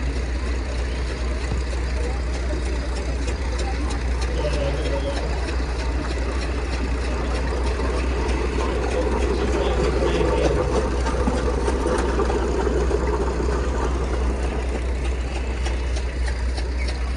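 Vintage traction engines and pre-1930 steel-wheel tractors parade at a Wanaka show, a steady low engine rumble and chug droning continuously under a busy outdoor wash of sound.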